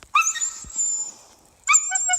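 Several dogs on a snowy winter expedition whine and yip close by, with high, drawn-out whimpers in two bursts separated by a brief quieter pause.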